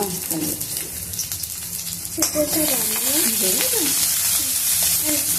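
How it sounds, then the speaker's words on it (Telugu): Onions, curry leaves and green chillies sizzle loudly in hot oil for upma, a constant crackling fry that grows denser midway as a voice talks over it. "ఆనియన్స్, కరివేపాకు, పచ్చిమిర్చి వేసి కలపాలి"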